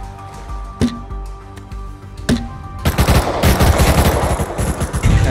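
Gunshots in Rust Console Edition: two sharp single reports a second and a half apart, then a dense, loud burst of sustained automatic fire rattling on to the end.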